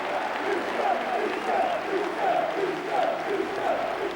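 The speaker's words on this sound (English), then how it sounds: "with the departure of one Peter, the Britannia rang to the name of another." A football crowd at Stoke City's Britannia Stadium applauds and chants together, a loud, rhythmic swell of voices and clapping filling the ground, with a narrator's voice running over it.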